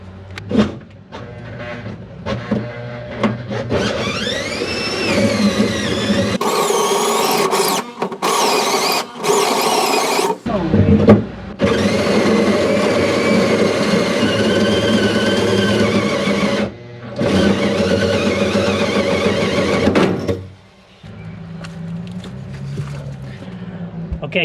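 A power drill whines in long sustained bursts, stopping and restarting several times, with a grinding edge as it bores through RV sheet metal; brief pauses between runs.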